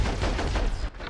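Rapid gunfire in the video game Saints Row 3, a dense loud burst of overlapping shots for about a second before cutting off.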